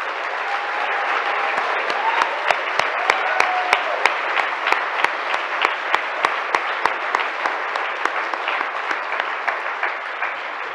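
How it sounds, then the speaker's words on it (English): A large audience gives a long round of applause at a conference livestream event, a dense continuous wash of clapping with a few sharp individual claps standing out and a faint voice underneath. "I would like you all, if you could please, to join me in a round of applause for these people"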